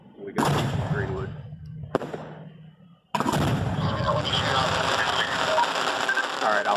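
Fireworks launch during a theme park fireworks show, heard from the shooter's position close by. Three sharp, loud bursts go off, the last opening into a dense crackling wash, with people talking in between.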